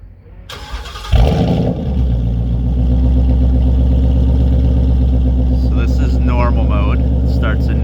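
A 2019 Mustang GT with a Corsa Extreme cat-back active exhaust cranks and fires, the starter catching into a loud, deep rumbling idle that settles steadily, with voices talking over it.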